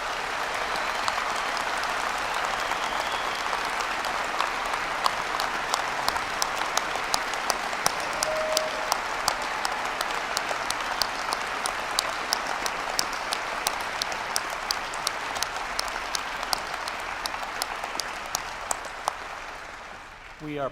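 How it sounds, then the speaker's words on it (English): Sustained applause from a large commencement audience for medical and health sciences graduates, a dense steady wash of clapping lasting the whole stretch with sharper individual claps standing out near the end. "Let's give all of our graduates one more round of applause."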